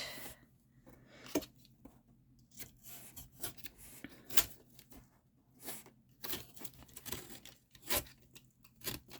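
Paper pages in a large journal being cut and torn, a series of soft, irregular rasping and tearing strokes close by, with rustling in between.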